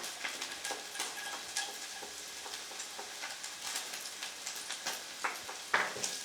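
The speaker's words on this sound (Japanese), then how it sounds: "もし中火にしてたら弱火に落としてニンニクを加えます" Garlic frying with crisped bacon in its rendered fat over low heat, a fine crackling sizzle with scattered pops and spits, steady and close.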